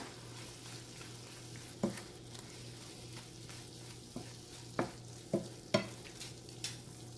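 Venison pieces sizzle in a pan with fennel, pepper, Kashmiri chili and meat masala powders, a soft steady frying hiss broken by a few sharp clinks and scrapes of the stirring spoon.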